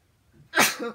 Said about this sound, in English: I've been sneezing